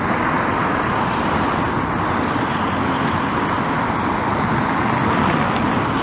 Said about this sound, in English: So look at this rush hour traffic.